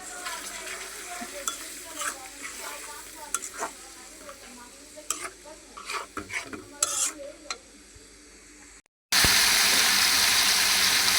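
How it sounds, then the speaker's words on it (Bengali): Spices for a chicken curry are stirred and sautéed in a pan, giving a soft sizzle broken by irregular scraping and clinking stirs. The sound ends in a brief silence and then a sudden burst of louder, steady hiss. "এই যে আমি সমস্ত মশলাগুলো দিয়ে দিচ্ছি এখন ভালো করে কষাই নিই"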